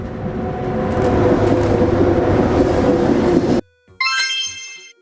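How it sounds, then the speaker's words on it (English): A sleeper train: a loud, steady rolling rumble that cuts off abruptly, followed by a short bright horn-like tone with a few soft clacks. "A sleeper train has cozy beds for night travel"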